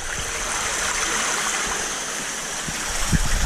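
Water pours steadily from an aquifer filter into a sump, producing a continuous, close rushing splash with no talk over it.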